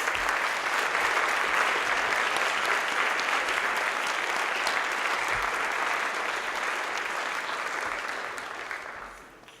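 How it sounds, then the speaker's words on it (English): Graduates rising to applaud their parents at a graduation ceremony: a large crowd's sustained, dense applause filling the hall, steady and loud before tapering off at the end. "Please rise and applaud your parents."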